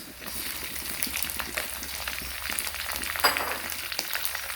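Shrimp and squid for Thai stir-fried seafood with holy basil fry quietly in a pan, a soft, continuous sizzle with scattered crackles and pops at a moderate distance.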